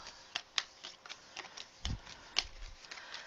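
Soft riffling and flicking of cards being shuffled for a card reading, a series of quiet irregular snaps and taps with no talking.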